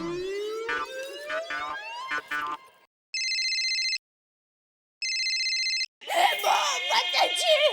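A mobile phone rings during a call in a family sitcom household. A bright electronic tone plays in two short bursts separated by silence. Sliding, siren-like tones come before the ringing and busy music follows it.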